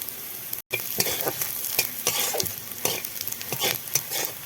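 Dried red chillies, garlic and black cumin fry in hot oil left over from frying fish, giving a steady close sizzle broken by repeated scrapes and clacks of a spatula stirring the pan.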